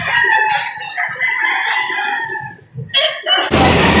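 An 18-month-old rooster crows loudly and close by, one long call with clucking from other fowl around it, then a burst of noise at the end, at a poultry seller in Lipa, Batangas.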